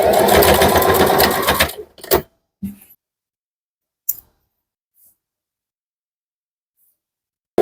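Sewing machine stitching a shirt, a loud close mechanical whir with rapid needle clatter for about two seconds, then stopping, followed by a few isolated clicks and knocks in near silence.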